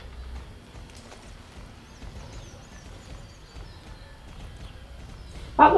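Rhythmic, soft hoofbeats of a horse trotting in the video game Star Stable sound steadily at a moderate distance, ending in a sudden louder burst.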